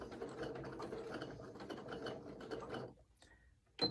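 A sewing machine stitches across the hanger of a fabric ornament, a close, fast mechanical rattle running steadily for about three seconds before stopping, followed by a short click.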